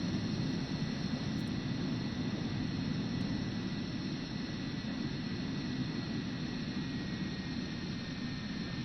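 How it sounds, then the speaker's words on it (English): Steady, loud broadband jet engine roar from an airliner's thrust reversers pushing the plane backward in Microsoft Flight Simulator 2024, holding an even, unbroken rumble throughout with no talk. "We're going to open up our thrust reversers and use the power of our engines to push the aircraft aft."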